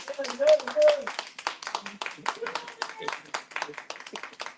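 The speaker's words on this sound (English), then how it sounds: "Let's give another round of applause for their book." A small audience at an authors' event claps in a quick, uneven patter of hand claps, with voices murmuring underneath.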